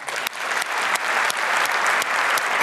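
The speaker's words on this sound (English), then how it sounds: "Round of applause for Rob." Audience applause fills a conference hall at a security talk, dense steady clapping from a large crowd that runs throughout without a break.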